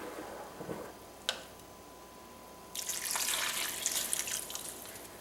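After a quiet stretch with a light clink, warm water starts pouring in a steady, splashing stream into a slow cooker of goulash soup, continuing to the end.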